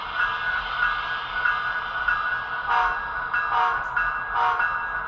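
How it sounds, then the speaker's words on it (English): A model train locomotive gives several short horn toots, brief bursts over a steady mechanical hum of the running engine, fairly close and moderate in volume. "this locomotive does have a short horn"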